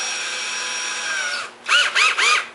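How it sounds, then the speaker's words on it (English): Power drill with a 9/64 inch bit boring into PVC pipe: a steady high whine that cuts off, then three short separate drill bursts spinning up and down, loud and close. "Next we want to put a 9/64 inch drill bit"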